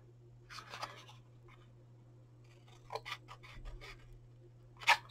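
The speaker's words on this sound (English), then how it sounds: "So we can cut this wee edge off here." Scissors trim a small edge off a card fudge bar box, producing a few short snips and scraping cuts in separate bursts, close and quiet against a low steady hum, with no talking.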